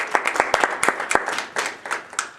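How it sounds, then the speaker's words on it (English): Applause for children at a middle school award ceremony: a modest group of hands clapping, individual claps sharp and distinct, fairly close and loud, with a ragged uneven rhythm over a couple of seconds. "So let's give the kids a round of applause"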